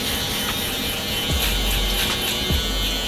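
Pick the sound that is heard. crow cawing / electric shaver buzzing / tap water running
electric shaver buzzing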